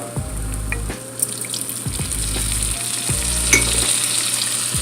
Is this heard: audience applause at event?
no